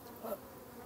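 A swarm of honeybees hums as a steady, dense buzz, rising slightly for a moment and then holding its even drone.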